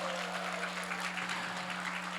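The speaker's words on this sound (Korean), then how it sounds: "우리 뜨거운 박수 한번 해주시기 바랍니다" Congregation applauding in church on Christmas Day, a soft, distant wash of clapping over a low steady hum, with no talk.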